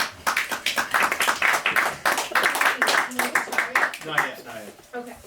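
Audience at a live cowboy poetry showcase at the Electric Lodge in Los Angeles gives a round of applause: dense, close clapping from a crowd, fading toward the end as a voice speaks over it.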